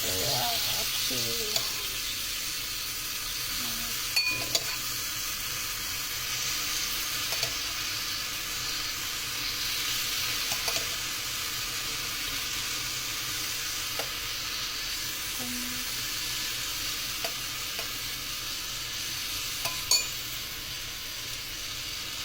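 Small appam batter, thinned with spoonfuls of milk, cooks in a pan with a steady, moderate sizzle and a few faint clinks of a utensil.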